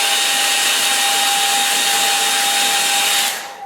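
A hair dryer blows steadily at close range over a watercolour line-and-wash snow scene, a loud continuous whir with a fixed tone that holds for several seconds before cutting off at the end.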